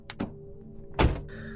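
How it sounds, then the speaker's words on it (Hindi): A car door opens as a sound effect in a Hindi horror story: a couple of quick latch clicks, then a heavier thunk, close and clear against a quiet background. "दरवाजा खोला"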